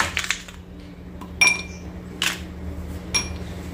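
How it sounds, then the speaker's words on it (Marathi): Ice cubes, two or three, dropped into a glass of cumin sherbet made with lemon juice and rock salt, giving a few sharp, close clinks spaced over a few seconds against a quiet background. "आईसचे तुकडे टाकते आता मी यामध्ये 2-3"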